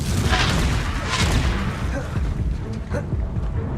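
A blasting-spell explosion from the game Hogwarts Legacy bursts loudly near the start, followed by rumbling boom and shorter impacts, with dense game combat noise throughout.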